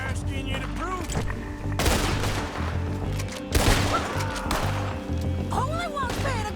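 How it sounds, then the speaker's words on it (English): Gunfire in the video game Red Dead Redemption 2: two loud broadband shots about two seconds apart amid a steady mechanical hum, with short squealing tones and faint voices in between. "Told you I could shoot a gun, didn't I?"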